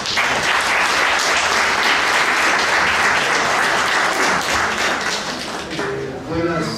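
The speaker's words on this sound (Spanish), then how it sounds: "al cual les pido un fuerte aplauso, por favor." Loud, sustained applause from an audience at a trade union education workshop, continuous clapping filling the room for several seconds before tapering off near the end.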